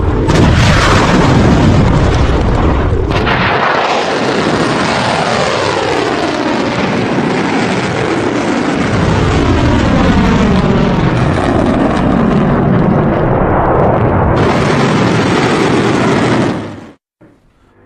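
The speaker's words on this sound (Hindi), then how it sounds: "हाजी कासिम मिसाइल दागी है" Loud, sustained roaring rush of Iranian Haj Qasem missiles launching, a continuous heavy blast that holds for about fifteen seconds before cutting off abruptly.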